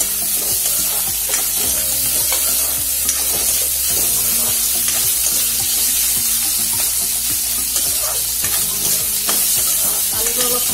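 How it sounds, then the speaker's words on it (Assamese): Potatoes fry in oil in a pan while being stirred, for an Assamese jute leaf dish; a steady close sizzle runs throughout, broken by repeated scraping stir strokes, with no talk. "আলুটো অলপ ভাজি ল'ম"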